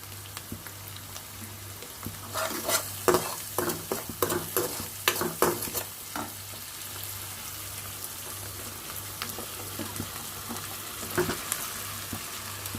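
Cooked rice being stirred into a hot mustard-seed tempering in a pan for chitranna: soft sizzling under a faint steady hum, with clusters of scraping, stirring strokes in the middle and another brief burst near the end.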